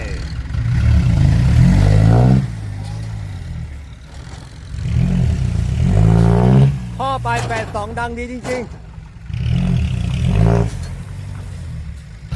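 A heavy Kubota M108S tractor engine revs in repeated surges, rising and falling three times, loud and close, while someone speaks between the surges.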